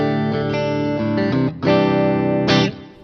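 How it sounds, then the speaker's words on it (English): Distorted electric guitar chords played through a Boss ME-90 multi-effects unit with reverb added, loud and sustained, with a short break before the final strummed chord rings out. "So now let's put some reverbs on it."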